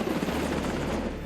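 Coast Guard H-60 Jayhawk helicopter, with a steady, loud rotor and engine roar that fills the short stretch without pause and has no talking over it.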